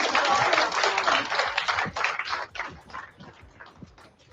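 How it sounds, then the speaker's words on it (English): A crowd gives a round of applause, dense clapping that starts strong and gradually thins out into scattered claps over a few seconds. "I want to give him a round of applause"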